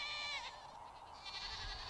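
Goats on a farm bleat in a near, continuous chorus of overlapping calls, loud and steady for the full stretch with no talking.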